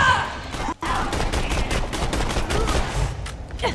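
Rapid gunfire rattles through a firefight in the video game Borderlands 2, dense overlapping shots and bursts forming a loud, continuous barrage.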